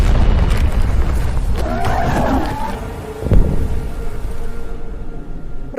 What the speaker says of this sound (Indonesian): mendengar suara ledakan tersebut dari kejauhan